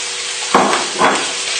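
Sausages fry in a teaspoon of oil in a hot pan, giving a loud, steady close sizzle with two brief surges as they are moved around.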